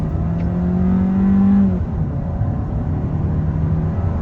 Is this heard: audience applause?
no